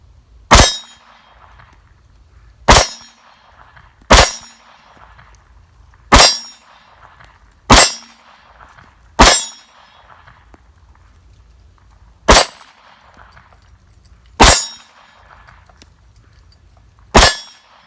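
A SCCY CPX-2 pistol firing Winchester target rounds at steel targets: nine sharp, loud shots spaced unevenly a second or more apart, each followed by a short metallic ring, with quiet between them.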